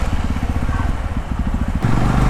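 A 2025 Yezdi Roadster motorcycle engine rumbles steadily while riding, with a low pulsing throb and some clatter, a shift in engine note near the end.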